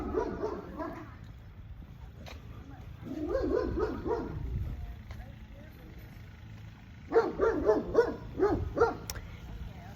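A dog barks and yips in three separate bursts of rapid, moderately close barks, with whimpering tones in between; a faint passing car sound also comes through.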